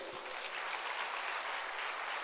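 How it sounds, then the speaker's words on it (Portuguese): A church congregation applauds together, a dense, steady wash of clapping at moderate volume that holds evenly throughout with no voices on top. "Aplaude o Senhor aí, querido, aplaude a Ele."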